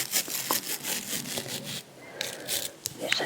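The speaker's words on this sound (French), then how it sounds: "c'est une brosse pour les ongles" A small pink nail brush is handled and rubbed close to the microphone, giving crisp, scratchy bristle strokes in irregular bursts that are fairly loud and intimate, with no voice over them.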